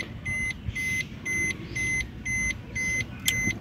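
A Maruti Nexa car alarm system beeps in short, evenly spaced pulses, a high two-tone chirp about every half second, with a low hum underneath.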